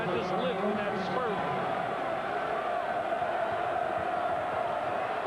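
A basketball arena crowd roars continuously during a 1995 North Carolina Tar Heels at Virginia Cavaliers game, with whoops and shouts rising in a loud, sustained wall of sound.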